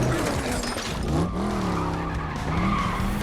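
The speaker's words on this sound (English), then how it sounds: "He's gonna like make all the traffic come to a screeching halt." Car tyres screech in a long, loud skid as traffic brakes hard in a John Wick: Chapter 4 action scene, with a wavering squeal over a steady engine rumble.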